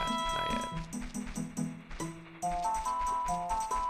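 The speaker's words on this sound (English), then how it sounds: "Yeah, that's the sound of spiders." Spider enemy sounds from Ocarina of Time, a string of clicky, skittering bursts and tonal game effects over steady background music, with no talking.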